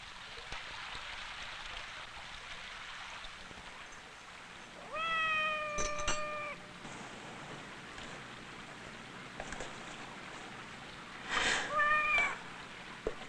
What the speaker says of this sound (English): Yes, there's a stray cat.